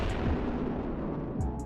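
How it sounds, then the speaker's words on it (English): A deep, rumbling V2 explosion in Dynamic Ship Simulator 3 with a low boom that rolls on and fades, quite faint overall. "The V2 explosion used to sound like this,"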